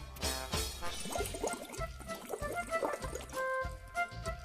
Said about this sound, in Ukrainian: стаканчик з водою та трубочкою